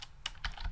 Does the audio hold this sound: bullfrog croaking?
no